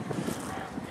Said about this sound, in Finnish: Kyllä paha tuulinen ilma.